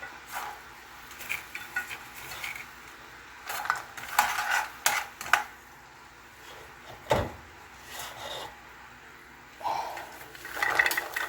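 Peanuts poured into a pan for sugar-coated peanuts: scattered rattling clatters and scraping stirs against the pan, close, in irregular bursts with quiet gaps between.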